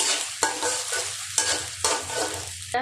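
Onions frying in plenty of oil with ground coriander, mixed spices, dried chilli, salt, black pepper, turmeric and cardamom, stirred in a pan: loud sizzling broken by four sharp scraping stirs at a regular pace, no talking.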